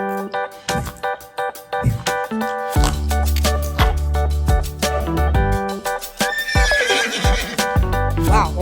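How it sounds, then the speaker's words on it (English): A horse whinnies loudly while being fed a carrot on a farm, with clip-clopping hooves and playful music running underneath. "Let's feed this horse a carrot."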